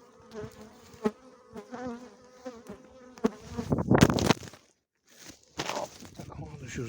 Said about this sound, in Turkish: Arılar telefona geliyor nedense